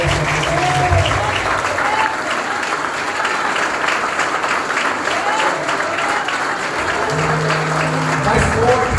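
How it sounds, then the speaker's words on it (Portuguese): A church congregation claps together in sustained, even applause for about nine seconds, loud and close, while a voice speaks over it at times. "dá uma linda salva de palmas ao Senhor aqui nessa noite"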